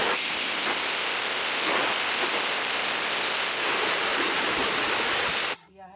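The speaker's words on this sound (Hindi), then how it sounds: "यह है मेरा पानी गर्म हो रहा है" Water heats in a pot on the stove, ready for broken rice: a steady, loud hiss that holds evenly, then cuts off abruptly near the end.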